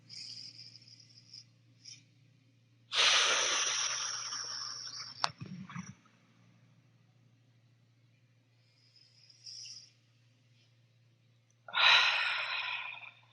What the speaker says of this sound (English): Exhale, decompressing, releasing all the air.